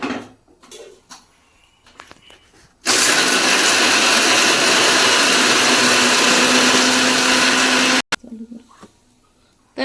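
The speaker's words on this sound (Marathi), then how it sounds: "चवीनुसार मीठ आणि हे आपण मिक्सरला लावून वाटून घेऊया" An electric mixer grinder churns a spinach mixture with salt in a loud, steady whirring burst of about five seconds that stops abruptly, with quieter kitchen sounds before and after.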